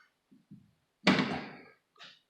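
Small fuel filler door on a car under restoration with freshly painted rear quarter panel, shutting with one firm close thunk, preceded by faint light handling taps and followed by a brief softer click.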